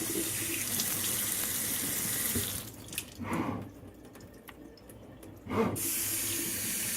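Water runs steadily from a Moen Motion Sense touchless kitchen faucet, cuts off briefly with a couple of short gushes, then resumes flowing strongly near the end.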